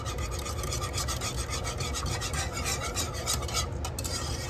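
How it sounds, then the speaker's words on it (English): A mixture being whisked in a bowl while cooking a budget dinner: a close, continuous rasping scrape with a steady, even rhythm and no voices. "And then give this a good whisk"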